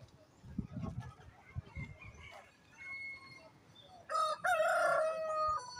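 At a poultry market, a rooster crows loudly near the end, after scattered clucking and faint chatter in the background.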